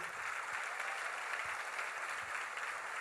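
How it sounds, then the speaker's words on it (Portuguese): A church congregation claps in steady, sustained applause, a dense wash of many hands that continues evenly throughout, heard at a moderate distance. "Ela aplaude a Jesus para valer."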